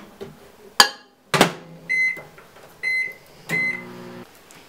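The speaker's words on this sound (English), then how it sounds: "Now microwave it for 30 seconds." A microwave oven heats an iced cinnamon roll: door thumps and button clicks, then several clear electronic beeps in short bursts, fairly close with no talk.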